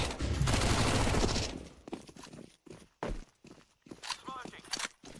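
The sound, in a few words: flashbang grenades popping in a video game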